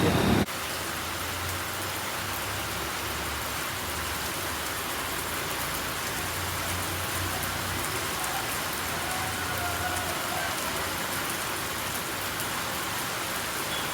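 Heavy rain pours down outside in a steady, dense roar of drops hitting surfaces, with low rumbling beneath and a brief knock at the very start.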